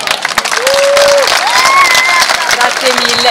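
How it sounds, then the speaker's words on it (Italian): An evening crowd at a football club presentation claps and cheers for a colleague, dense, loud applause with whistles and shouts throughout. "volevo un forte e caloroso applauso per la mia collega Valentina Violini"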